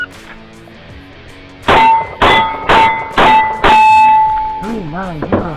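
Canik SFX Rival Darkside 9mm pistol fired at a Steel Challenge match: five sharp, loud shots in quick succession, each followed by ringing clangs of steel targets, with a beeping timer tone and faint background chatter.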